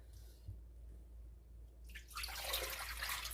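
Warm water for pizza dough starts pouring into a bowl partway through, a close, rushing splash that stays steady to the end after a quiet start.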